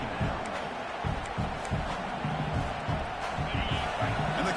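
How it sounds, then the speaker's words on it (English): Football stadium crowd at a Kansas State versus Oklahoma game roaring in a steady, distant wash of cheering and shouting, with a commentator talking over it. "It's early, but this crowd is fired up. Listen to this noise here."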